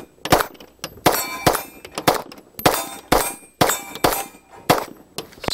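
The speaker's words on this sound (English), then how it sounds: "I'm gonna shut up and shoot because I'm waiting to just pull the trigger" An STI Omni handgun fired on an outdoor range during a trade-show range day, about ten sharp, loud shots in a quick, fairly even string, each with a ringing metallic tail, no talking.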